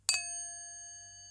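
A single strike on a hard drive platter ring, used as a small gong, gives one bright metallic ding that rings on with a long, slowly fading shimmer, close and alone.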